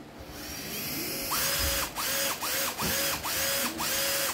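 A used Japanese cordless drill runs in reverse, smooth and even, revving up in about six short whirring bursts, each rising in pitch and then cutting off, heard close with no voices.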